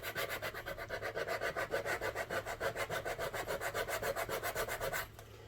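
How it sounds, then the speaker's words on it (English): A file and sanding block rubbing along the edges of a wooden Valentine stacked box to distress it, a brisk steady back-and-forth rasp of some thirty close strokes that stops abruptly near the end. "get in there and file it off."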